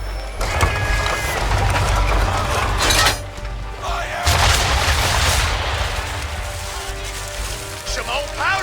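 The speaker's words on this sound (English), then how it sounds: "Now, aim all guns at her bow and do as much damage as possible." Ship cannons fire at an enemy vessel during a naval battle in Assassin's Creed III, with heavy booming blasts and crashing impacts in a rolling volley, loud and close, followed by debris clatter and a voice speaking near the end.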